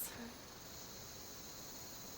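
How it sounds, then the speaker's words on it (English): Steady high-pitched cicada buzzing from trees fills the background continuously at a faint, distant level with a soft broadband hiss underneath, beside a river. "relaxing to the sounds of the river behind me, maybe the cicadas in the trees"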